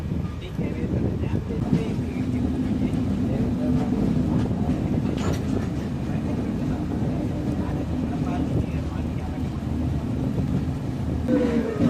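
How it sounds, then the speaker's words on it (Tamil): The Kochuveli-Mysuru Express rumbles steadily as it pulls away from Kochuveli station in rain, a low continuous drone with faint rattling, and muffled voices in the background. "ஸ்டேஷன்லேருந்து வண்டி கிளம்பினோடனே மேலே தேங்கி இருந்த தண்ணி எல்லாமே வந்து கொட்ட ஆரம்பிக்குது"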